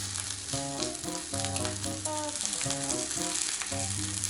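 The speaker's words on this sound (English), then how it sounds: "So I'll just make my egg." An egg frying in a pan for Spam musubi, a steady close sizzle throughout, with a musical tone pattern and no speech over it.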